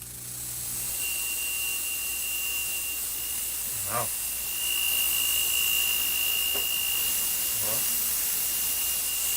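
A large 1/4 electric motor runs on a sine-wave inverter, giving a loud, steady whirring hiss with a constant high whine and a few soft knocks along the way.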